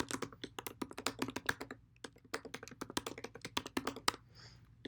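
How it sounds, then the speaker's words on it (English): Fingers type an email address on a computer keyboard in a dense run of crisp, close clicks with short pauses between bursts. The clicks are heard alone in a quiet room. "we'll type in the wrong email address just to double check that"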